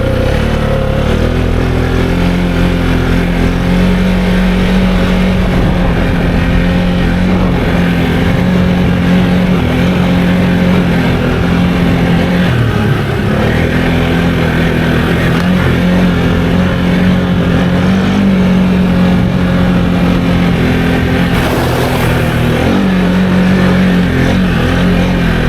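A 2023 Can-Am Outlander XMR700 G3 ATV on 32-inch Aztec tires, driven in sport mode, drones loud and steady with its engine note dipping and rising as it shifts, close and continuous with no talk.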